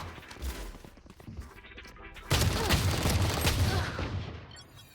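Gunfire from a video game starts with scattered muffled shots, then bursts into a loud sustained barrage of rapid automatic fire and booms that slowly fades, with no talk over it.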